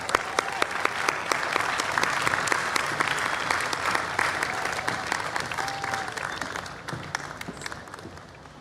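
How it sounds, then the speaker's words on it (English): A large crowd at the World Culture Festival applauds in a dense, sustained roll of clapping that swells, then gradually thins and fades toward the end. "Let's give her a big round of applause."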